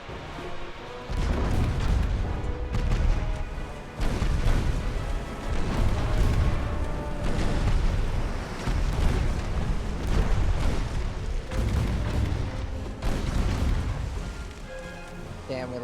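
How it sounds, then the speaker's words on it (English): Torpedo hits and explosions on a warship in the naval battle game Ultimate Admiral: Dreadnoughts, a steady barrage of loud, overlapping booms and rumbling blasts that continues throughout without pause. "Delta just took multiple torpedo hits."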